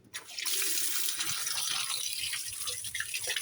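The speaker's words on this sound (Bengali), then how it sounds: "এই তো বাজার গেলাম, ডিম আনলাম। এগুলো এখন ধুতে হবে" Water from a tap runs steadily into a sink as eggs bought at the market are washed under it, a continuous close gush with small splashes.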